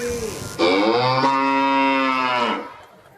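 A man imitates a bull with a long, drawn-out bellowing moo lasting about two seconds, loud and close, rising sharply and then tailing off, heard alone.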